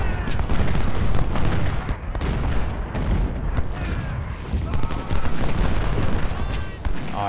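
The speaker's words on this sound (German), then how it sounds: "Meine Kanonen bitte Feuer." Artillery barrage in the Civil War strategy game Ultimate General: Civil War, with repeated loud cannon blasts and crackling musketry overlapping in a steady battle roar that swells and dips across several seconds.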